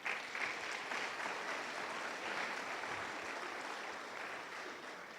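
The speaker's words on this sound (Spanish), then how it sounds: "Dale palmas a Él." A church congregation claps in sustained applause, a dense, even wash of many hands that fades slightly toward the end.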